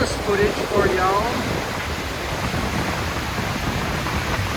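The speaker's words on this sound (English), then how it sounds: "Wow, that's a tall waterfall." Steady rush of a tall waterfall heard from nearby, a broad continuous roar with wind buffeting the microphone and a brief voice near the start.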